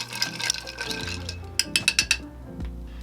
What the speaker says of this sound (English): We don't want to over dilute because we are going to be pouring this over